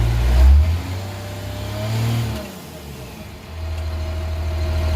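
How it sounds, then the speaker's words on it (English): A 1949 Cummins diesel fitted with a homemade exhaust brake, with an air leak, rumbles loud and near with low engine tone, dipping as the brake engages midway and then returning to a steady drone. "It does slow it down, but it sounds like there's an air leak to fix."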